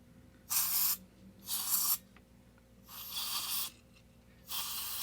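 Contact cleaner sprayed onto a Johnny Lightning toy race car in four separate hissing bursts, each under a second long, close by, with quiet pauses between them.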